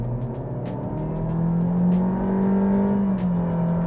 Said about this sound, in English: And it pulls all the way to the red line.